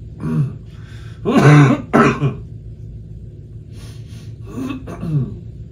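A pastor with a bad cough clears his throat and coughs in several loud, close bursts during a church sermon, separated by brief quiet gaps.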